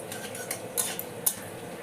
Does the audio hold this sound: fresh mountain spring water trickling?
no